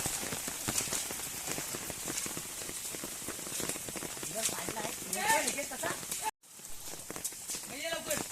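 Rain pattering steadily across coastal Konkan marsh flats while people hunt for shellfish, a dense continuous wash under ongoing conversation and occasional footsteps, ending with a short cut.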